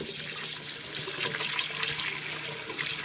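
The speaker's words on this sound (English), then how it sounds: "And you just rinse it until the water runs clear." Rice being rinsed under running water from a tap for sushi, a steady close splashing and trickling that fills the whole stretch without talk.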